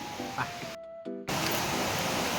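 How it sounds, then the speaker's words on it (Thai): Water flowing down a stream channel at Huay Tueng Thao waterfall in Chiang Mai, a steady broadband rush heard close by, cut by a brief near-silent gap before the flow returns loud and constant. "ตรงนี้เป็นทางน้ำที่มันไหล"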